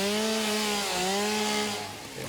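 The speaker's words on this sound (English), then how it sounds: "Let's use the chainsaw." A chainsaw in the video game Satisfactory revs steadily while cutting through bushes, its whining engine drone shifting pitch slightly before easing off near the end.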